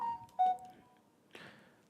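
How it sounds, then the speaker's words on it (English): A phone powering on gives a couple of short, clear electronic beeps close by in a quiet room, followed by a faint brief rustle. "Hold on, my phone should be on now."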